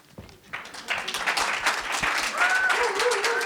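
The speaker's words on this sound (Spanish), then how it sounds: "me paro y le aplaudo" Applause from an interview audience swells quickly after a brief quiet moment into steady, fairly close clapping, with some voices mixed in.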